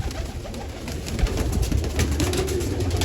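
Close cooing of a sick adult female pigeon, a soft throaty rolling coo repeated over steady background hiss, with no talking.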